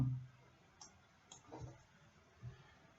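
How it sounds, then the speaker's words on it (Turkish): Computer mouse clicks, a few sparse, faint, sharp ticks spread across a quiet room, with no talking. "Mouse'umuzun sağ tuşuna tıkladık ve makro ata"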